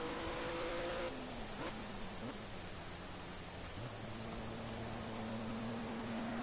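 Steady rain hiss during a race in the Project Cars GT4 video game, a broad continuous wash with faint engine tones running underneath, no voices.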